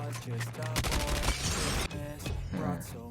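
Gunfire in the mobile game Call of Duty Mobile, dense rapid automatic bursts rattling loudly and continuously in the foreground, with a voice talking over the shooting.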